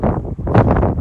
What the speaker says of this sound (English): Very heavy, windy.